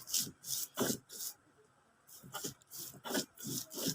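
A stone shil pata being sharpened and ground by hand, rough rhythmic scraping strokes in bursts close by, with a pause in the middle before the grinding resumes.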